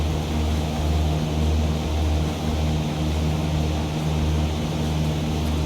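A Cessna 172 propeller engine in a flight simulator drones steadily, a continuous low hum with a faint regular pulsing, heard alone at a constant level.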